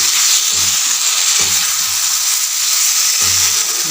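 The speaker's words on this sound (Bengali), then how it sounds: "রসুন বাটাটা আমি এর মধ্যে দিয়ে দেবো" Garlic paste frying in hot oil in a pan with small fish for a Bangladeshi recipe, a loud, dense, steady sizzle with a few low thumps of stirring underneath, close up.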